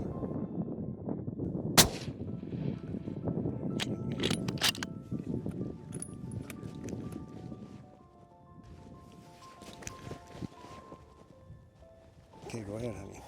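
A hunting rifle fires once at a mule deer during a hunt in Utah, giving a single sharp, loud report early on. Hushed talk runs before and after the shot, and faint rustling continues through the rest.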